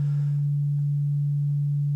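Steady sine wave from a Doepfer A-110-4 quadrature thru-zero VCO synthesizer module, a clean, round continuous tone holding one pitch for two seconds, alone with no voices.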